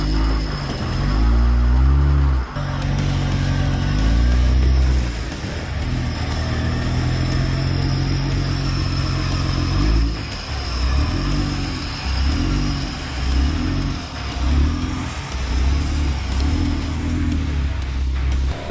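An off-road vehicle grinds along a muddy trail, its engine loud and close, revving up and easing off in repeated surges for the whole stretch.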